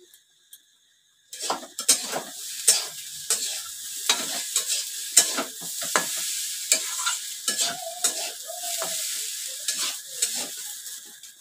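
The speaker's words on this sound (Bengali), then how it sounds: "একটু ভালো করে ভাজতে হবে চাউমিনটা, নাহলে গন্ধ ছাড়ে। এটা একটু ভালো করে ভেজে নেব।" Chowmein stir-fried in a pan: sustained close sizzling and frying with repeated scraping and tossing strokes from a utensil, after a quiet start.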